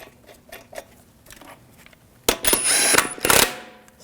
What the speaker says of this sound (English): Now install the wheel. Take the lug bolts, get those started.